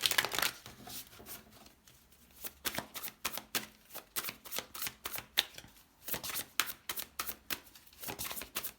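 Tarot cards being shuffled, a rapid run of crisp riffling and slapping bursts repeating in irregular clusters, close and fairly quiet with no talking.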